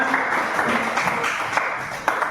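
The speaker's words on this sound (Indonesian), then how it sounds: "Tepuk tangan untuk semuanya." Steady applause from a group fills the space, a dense continuous patter of clapping with a few louder claps standing out.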